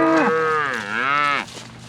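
A cow or bull calf on a farm gives one loud, drawn-out moo that bends down and back up in pitch before cutting off abruptly, close by with no talk.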